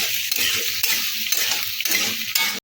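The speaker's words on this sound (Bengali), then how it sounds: "হাই হিটে ভালো করে নাড়াচাড়া করছি আমি এটাকে" Chilli cauliflower being stirred vigorously in a pan over high heat, loud close sizzling broken by rhythmic scraping strokes about every half second, cut off abruptly at the end, with no talking.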